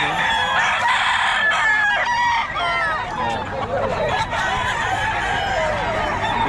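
Many roosters crow and cluck at once at a poultry market in Bocaue, loud and near, calls overlapping continuously over a low murmur of people.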